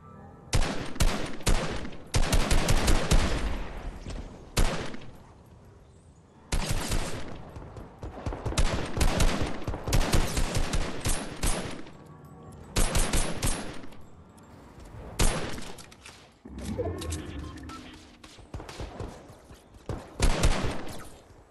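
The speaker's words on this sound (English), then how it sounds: "Their guns sound just like an AR." Rapid bursts of assault rifle gunfire in the video game Fortnite, loud and close, firing in several long volleys separated by short pauses, with no talk over it.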